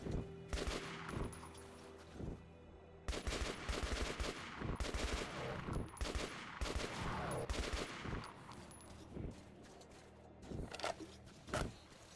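Sustained bursts of automatic gunfire in Metro Last Light Redux, a dense barrage of rapid shots that breaks off briefly and resumes, with a few louder single reports near the end.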